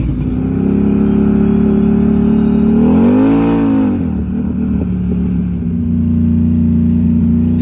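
An ATV or side-by-side engine runs loud and close at a steady idle, rising briefly into a rev near the middle before settling back to its even drone.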